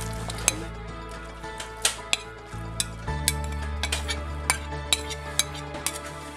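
A utensil scrapes and clinks against a pot where egg noodles cook in turkey broth for soup, sharp metallic taps recurring in an uneven rhythm over a steady low hum with a soft simmering hiss.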